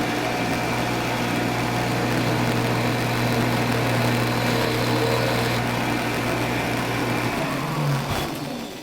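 A Shopsmith woodworking machine runs a bit into a drill plate table insert. Its motor holds a steady hum and whine for several seconds, then winds down and stops near the end.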